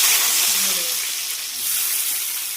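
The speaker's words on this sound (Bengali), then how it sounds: "পেঁয়াজগুলোকে ভাজবো, মানে বেরেস্তা করবো। তেল গরম হয়ে গেছে" Onions frying in hot oil, being browned into crisp beresta for egg biryani, give off a loud, dense, continuous sizzle and crackle, right up close with no break.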